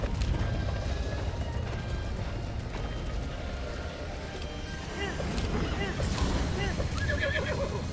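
Horse whinnies in the video game Zelda Breath of the Wild, heard at moderate level over game music and effects while a person talks throughout.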